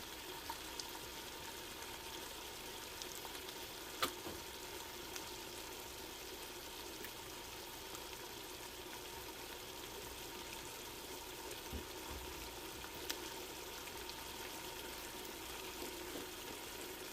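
Shallot fries in a pan, a faint, even sizzle that runs on without a break, with one or two small clicks and no speech.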